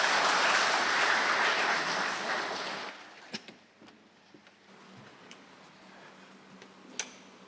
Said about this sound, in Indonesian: Kita berikan tepuk tangan dulu untuk teman-teman kita.